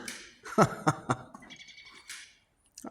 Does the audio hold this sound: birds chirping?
yes